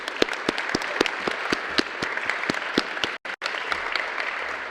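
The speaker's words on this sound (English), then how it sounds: "So at this time, I'd like to give a round of applause to all the parents." Audience clapping at a high school JROTC change of command ceremony, a sparse, moderate crowd with distinct individual claps, steady for several seconds with a brief gap near the end.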